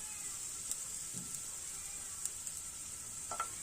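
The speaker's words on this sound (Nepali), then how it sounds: "मैले लसुन, सानो कुर्का अदुवा लगाएर फ्राई गर्दै छु" Garlic and a small piece of ginger fry in hot oil with a soft, constant sizzle, broken by a few faint clicks and light stirring taps.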